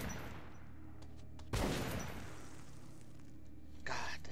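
A single loud shotgun blast booms in Metro 2033 Redux, followed by quieter game ambience and another shorter burst near the end, with a player talking faintly.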